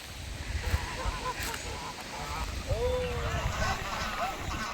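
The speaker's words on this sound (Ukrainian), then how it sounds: "Гуси підпливли до берега, хочуть, мабуть, щось поїсти." Geese honking intermittently at a moderate distance near the shore at Göynük Canyon, Kemer, Turkey, scattered calls over a background of voices and outdoor noise.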